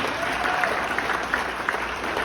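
Audience applause at a school Hispanic Heritage Month celebration honoring parents, a steady wash of many hands clapping throughout at moderate level with no voices over it.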